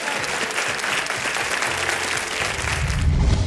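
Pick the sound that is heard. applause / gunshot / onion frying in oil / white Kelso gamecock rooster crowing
applause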